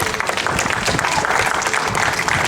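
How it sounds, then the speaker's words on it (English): A rally audience at a gun-violence prevention event applauds steadily and loudly throughout, a dense wash of many hands clapping close by with no voices standing out. "Big round of applause to all of you."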